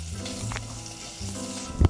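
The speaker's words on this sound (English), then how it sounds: "But for frying it right now, it's only literally like vanilla pork." Steady sizzling of plain pork frying in a pan, close and moderately loud, with a brief clatter near the end.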